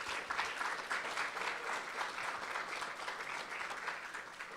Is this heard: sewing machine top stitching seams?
no